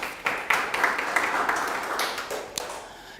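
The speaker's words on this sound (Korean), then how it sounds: "하나님께 영광의 박수를." A church congregation at a Wednesday service claps in a burst of quick, uneven applause, heard nearby with no talking over it.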